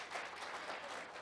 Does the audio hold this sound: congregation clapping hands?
yes